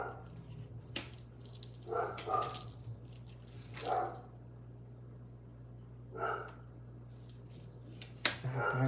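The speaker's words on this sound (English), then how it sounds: "barking at nothing again" A dog barks in a few short bursts at a moderate distance, spaced a couple of seconds apart over a steady low hum, with faint metallic jingling between the barks.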